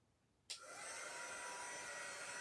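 A dryer switches on abruptly after a moment of quiet and then blows a steady, fairly close airy whir while drying craft pieces.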